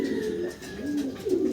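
Domestic breeding pigeons, including blue bar, red check and grizzle birds, coo in soft, rolling, repeated calls at close range, two or three phrases over a faint background hum.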